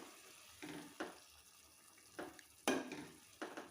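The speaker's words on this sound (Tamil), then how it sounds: "இப்படி நல்லா கலந்து விடுங்க." Coriander rice being stirred and mixed by hand in a pot, a few distinct scraping, clattering strokes spaced irregularly over a soft background hiss, with no talking.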